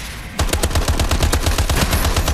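Paired submachine guns fire in a rapid, unbroken burst in Advanced Warfare, each shot loud and close in a fast even rhythm after a brief quiet start.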